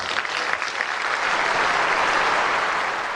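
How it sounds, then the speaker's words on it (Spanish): Delegates at a United Nations assembly applaud, a dense, roaring wash of clapping that swells slightly and stays strong throughout, with no voices over it. "Aplausos de las Naciones Unidas"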